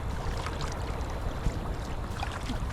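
Inflatable GoPlus kayak paddled on water at Kelso Conservation Area, with a steady wash of water and soft splashy paddle strokes under light outdoor ambience, fairly quiet and continuous.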